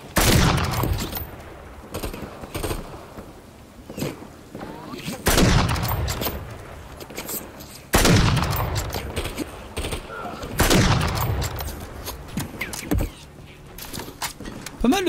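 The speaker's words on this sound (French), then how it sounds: "Pas mal le son de l'arme" Repeated bursts of gunfire from the Call of Duty Modern Warfare 3 video game on PS5, in a cold Siberian setting, with loud volleys about every three seconds and rattling tails between them.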